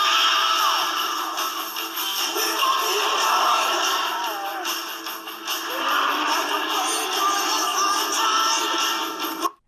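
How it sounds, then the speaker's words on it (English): A creature sound effect for the squid from the movie Transformers: a loud, sustained, layered roar with warbling, wavering tones, running steadily for nearly ten seconds before cutting off abruptly. "this is the sound of the squid from Transformers the movie"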